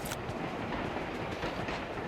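Train rolling along in the BGMI mobile battle royale game, a steady, loud rumble with continuous wheel clatter filling the whole stretch, no voices.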